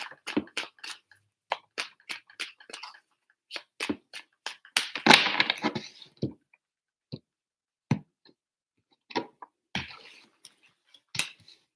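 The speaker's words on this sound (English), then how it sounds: "One more shuffle." Tarot cards are shuffled in a quiet room: crisp, separate clicks and flicks come in irregular bursts, with one denser riffle in the middle, all close and fairly soft.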